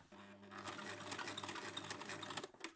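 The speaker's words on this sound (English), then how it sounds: "the sewing machine is very old, noisy, and it desperately needs some service" An old sewing machine in need of service stitches a cotton face mask in a rapid mechanical rattle with a low motor hum, running for a couple of seconds before stopping, close up and noisy.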